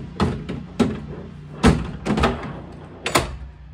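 An overland vehicle storage drawer is slid in and latched, giving a short series of close, solid thunks and knocks.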